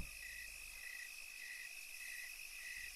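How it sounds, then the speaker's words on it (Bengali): Crickets chirp along a night path in a Bengali horror cartoon, a faint, steady train of evenly spaced chirps repeating over a soft background hum. "সেই ঝিঝি পোকা।"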